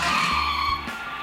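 A voice-controlled toy remote-control car brakes hard and skids. A close, loud, whining screech holds for about a second, then drops off sharply into a quieter tail.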